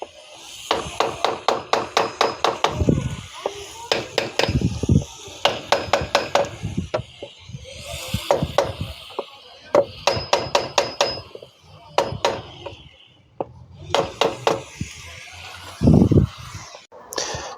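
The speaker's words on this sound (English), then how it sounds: "So you can take a wooden block and tap him down" Sharp wooden-block taps driving cylinder head studs down on an Opel Corsa Utility 1.4i engine, struck in quick rhythmic bursts of several hits with short pauses between, close and fairly loud.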